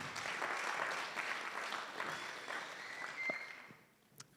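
Audience clapping at a music launch event, a steady patter of many hands that fades out toward the end, with a brief voice or sound near the close.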